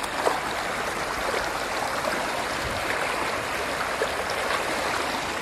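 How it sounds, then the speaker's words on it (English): A creek in Zion, Utah flows steadily, its water rushing and trickling over rocks in a continuous close wash of sound with no voices. "this is a pretty nice creek"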